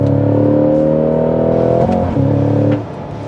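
A Cadillac CT5-V Blackwing sports sedan engine revs loudly and steadily while accelerating, pitch climbing, with a brief dip at a downshift before settling at a lower drone.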